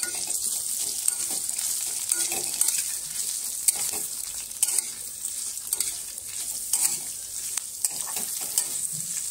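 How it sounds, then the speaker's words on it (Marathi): Thinly sliced dried coconut roasts in hot oil with a soft, continuous sizzle, punctuated by scattered clicks and scrapes of a spoon stirring it around the pan. "एक वाटी सुकं खोबरं घेतलेलं आहे पातळ चिरून, ते पण छान असं तेलामध्ये परतवून घ्यायचं आहे आपल्याला"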